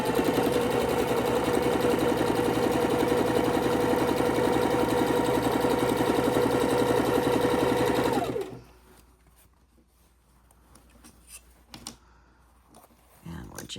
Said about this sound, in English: Just going to keep on sewing until we get this strip done.